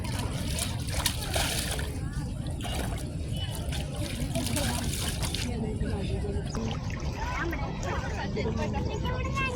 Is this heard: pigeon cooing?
no